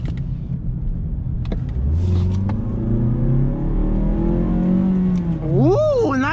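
A 2016 Mazda 3 Touring's engine revs up, its pitch climbing as it accelerates, then surges higher in a loud, rising whine near the end.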